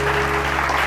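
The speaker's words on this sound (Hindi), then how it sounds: "बहुत सारी तालियां मदिया के लिए" A studio audience on a Pakistani TV morning show applauds a guest, a steady, continuous wash of many hands clapping that holds at an even volume through the short moment.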